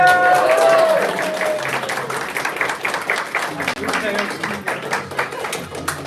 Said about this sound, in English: Give me a round of applause.